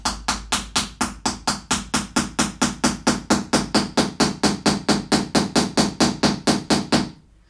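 Regular hammer blows drive a support dowel down through stacked tiers of a multi-tier cake, about thirty evenly spaced, loud close knocks in a steady rhythm that shift slightly in tone as the dowel goes deeper.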